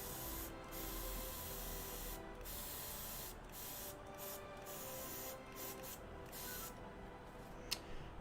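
A small airbrush compressor hisses and hums steadily for the whole stretch, with soft airy bursts coming and going on top.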